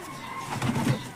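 A pigeon coos softly while being held, a brief low throaty burble that swells once close by.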